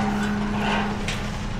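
A car engine drones steadily as the vehicle is driven in at home, a constant low hum with faint tyre and road noise and no talking.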